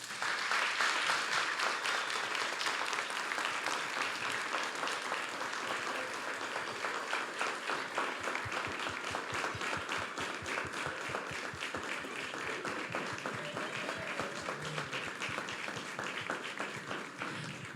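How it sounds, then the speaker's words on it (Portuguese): A church congregation applauds Gabi during a Sunday Lutheran service, sustained clapping that rises into a more rhythmic, unified beat halfway through and carries on for many seconds at moderate volume. "Nós queremos agradecer a Gabi com uma salva de palmas."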